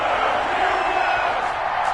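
Steady, dense roar of a stadium crowd at a football video game, Green Bay Packers against Pittsburgh Steelers, cheering without pause for the whole stretch at an even, fairly loud level.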